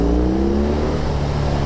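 BMW R18 motorcycle accelerating through a tunnel, a loud, steady engine drone that echoes off the walls and climbs slightly in pitch over a short stretch.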